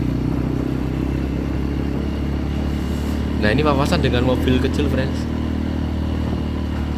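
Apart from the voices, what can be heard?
Honda Beat automatic scooter engine riding uphill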